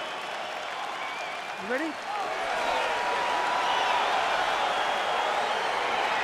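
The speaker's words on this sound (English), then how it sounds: "crowd getting excited as this fight gets underway" A video-game UFC 4 arena crowd swells into a sustained, rising roar as a fight begins, with a voice speaking briefly near the start.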